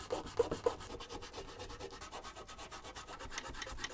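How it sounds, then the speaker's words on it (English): Sandpaper rubbed by hand over the plastic bottom of a Commodore 64 case: steady, close scratchy strokes in a continuous rhythm, a few sharper scrapes at the start, no talking. "You need to use some sandpaper to just try to get it as smooth as possible."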